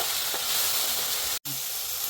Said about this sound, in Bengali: এখন মশলাটাকে ভেজে নিব